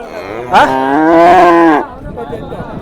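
A young calf gives one loud, close moo lasting about a second, rising sharply then holding steady before stopping into quiet background.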